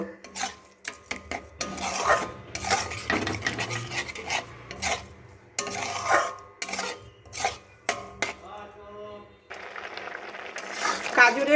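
Carrot halwa being stirred with sugar in a pan, giving repeated scraping and rubbing strokes of a spoon against metal, close and fairly loud, in irregular bursts with short pauses between.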